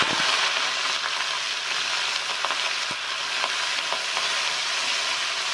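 Chili, coriander and curry leaves crackle and sizzle in very hot oil for an egg gravy, a steady close frying hiss with small pops and a few stirring clicks throughout, no voices.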